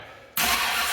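A car engine with a freshly fixed fan belt and timing still off cranks and catches abruptly, jumping straight into a loud, steady running roar that carries on close by without talk.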